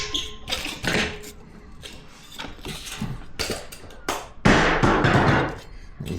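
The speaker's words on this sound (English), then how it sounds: "There's my hammer I've just dropped." A hammer dropped during installation of a ceiling system, giving a clattering metallic impact among scattered knocks and handling noises, with one louder crash near the end.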